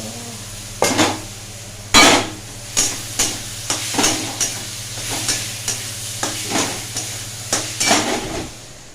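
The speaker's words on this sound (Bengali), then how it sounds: "মশলা কষা রেডি এবারে আমি আলুটা দিয়ে দেব" Potatoes go into a pan of frying spice masala, and a spoon stirs and scrapes steadily with roughly a dozen rhythmic clanks over a soft sizzle, with a low hum underneath.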